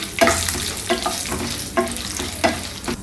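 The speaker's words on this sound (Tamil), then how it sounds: "இப்போ இதை சேர்த்து கொஞ்சம் நல்லா வறுத்துக்கலாம்." Cashews and cumin roasting in a pan, tossed with a spoon: a close sizzle broken by four evenly spaced scraping strokes, short and crisp, with no speech.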